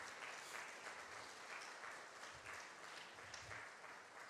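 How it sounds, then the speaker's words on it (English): Steady audience applause fills a church contemporary worship service, continuous hand clapping from a room full of people at moderate distance with no talk over it. "So thank you for the applause."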